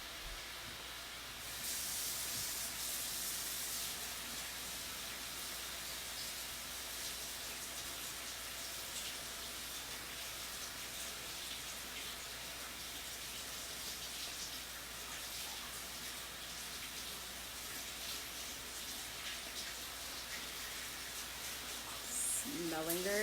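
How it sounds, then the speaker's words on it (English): Running tap water pours steadily as hands are washed at a kitchen sink, a continuous soft hiss that stays even throughout the clip. "I'm going to wash my hands."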